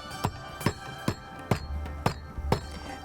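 A cooking hammer pounds meat flat for thari gosht, giving six or seven sharp, evenly spaced thuds, loud and close, with nothing else over them.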